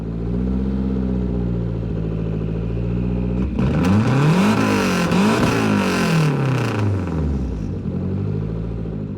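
A Lancia rally car engine in the Gran Turismo video game idles steadily, then revs hard several times with sweeping pitch rises and falls before settling back to idle.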